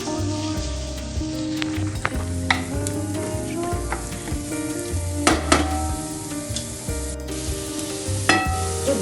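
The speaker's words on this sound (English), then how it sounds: "This is 1 large onion which I've chopped finely. I'm going to saute this for a second or two." One large finely chopped onion sautes in a hot pan, giving a steady crackling sizzle with scattered pops and the occasional scrape of stirring, close and continuous throughout.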